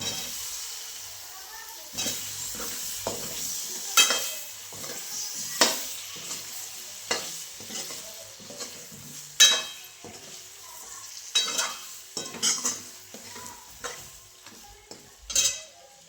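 Food being sautéed and stirred in a pan: a steady sizzle runs under repeated scraping, clinking strokes of a spoon against the metal, spaced every second or two, close and clear, with no talking.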